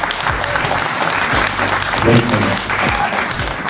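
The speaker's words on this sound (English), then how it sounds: "Give him a round of applause." An audience at a documentary premiere screening claps in a brief burst of applause, a dense patter of hands filling the room over a few seconds.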